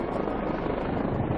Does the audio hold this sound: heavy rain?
no